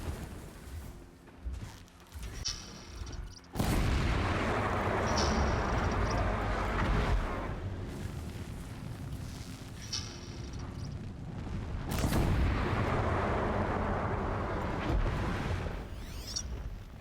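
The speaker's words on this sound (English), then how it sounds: "Explosions in the distance." Distant explosions in the video game Horizon Zero Dawn, heavy rumbling booms that swell into long sustained roars, one near the start and another later, with quieter stretches between.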